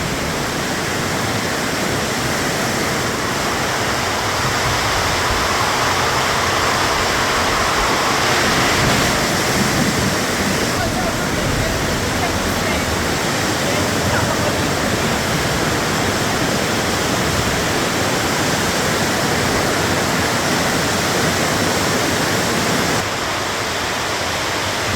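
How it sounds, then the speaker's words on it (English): Heavy rain drums steadily and loudly on a roof, a dense, continuous hiss with no pauses and no voices. "the pour of the rain on the roof"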